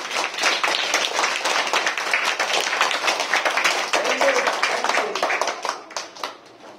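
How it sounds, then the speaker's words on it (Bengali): A classroom of children claps together in a quick burst of scattered, overlapping hand claps that fades out near the end, with a voice in the background. "একবার জোরে হাততালি দিয়ে দাও"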